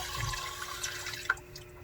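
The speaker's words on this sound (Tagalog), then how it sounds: "So, lagyan natin ng tubig." Water is poured into a cooking pot for sautéed odong noodles with vegetables, giving a steady, soft splashing hiss that ends in a small final drip.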